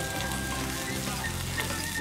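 Fish-filled pan-fried buns sizzle on a griddle at a busy outdoor market stall, a dense, continuous hiss of frying oil heard close up over the steady din of the market.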